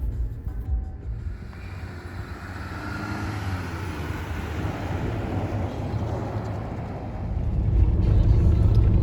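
A Jeep Gladiator drives through deep sand in a national park, a low rumbling engine drone with rushing tyre and body noise that swells louder toward the end, heard from inside the vehicle.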